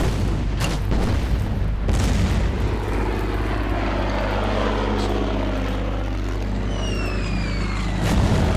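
A bombardment in the WW2 strategy game Order of Battle sounds as loud, deep, continuous rumbling booms over a dense low roar, with no pauses from start to finish.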